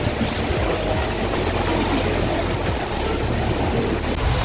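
Dense, steady hiss of heavy rain pouring down in Japan, loud and continuous with no pauses or voices.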